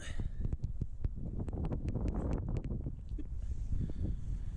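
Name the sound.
wind blowing on a beach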